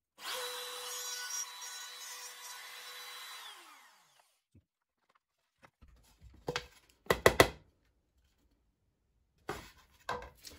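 A hand-held router fitted with a 6 mm milling cutter cuts into wood on a circle-cutting compass jig, running loud and steady for about four seconds before winding down, followed by a few separate knocks and scraping handling noises.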